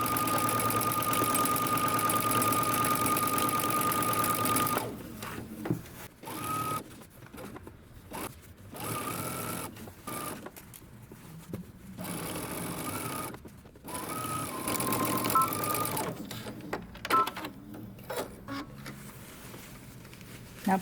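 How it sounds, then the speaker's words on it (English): A sewing machine stitches a ruffle onto a skirt hem at a 5/8-inch seam allowance, a steady loud whir for about five seconds, then shorter bursts and stops as the stitching backs up and continues, with no talk. "we're going to stitch around using 5/8 of an inch seam allowance."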